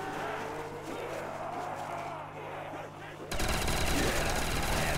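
Rapid automatic gunfire in the zombies game World at War Custom Zombies rattles loudly and continuously in the last stretch, preceded by game ambience and a voice talking.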